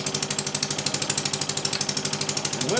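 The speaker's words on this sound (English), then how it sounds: "So the engine is running." A small overhead cam model engine runs steadily and loudly on its own, with a fast, even chugging beat throughout, ahead of driving a model compressor.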